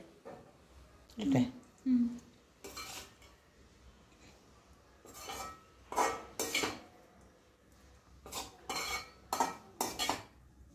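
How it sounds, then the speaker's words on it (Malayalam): Spoon scrapes and clinks as a spice mix for cut raw mango pickle is scooped into a vessel, a series of short metallic knocks and scrapes spread across the clip, with a brief voice or whine early on. "നമുക്ക് ഈ മിക്സ് നമുക്ക് ഈ പാത്രത്തിലോട്ട് കോരിയിടാം"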